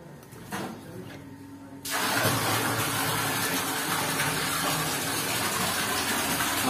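A submersible water pump in a dug well switches on after a quiet start, and water then gushes in a steady, loud, continuous rush that carries on to the end.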